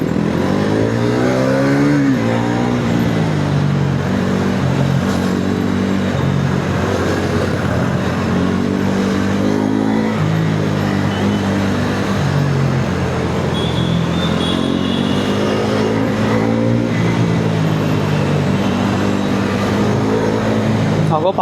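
KTM Duke 390 and Bajaj Pulsar NS400 motorcycles cruising on a highway, a steady loud engine drone with rising and falling revs and heavy wind rush, a voice talking over it.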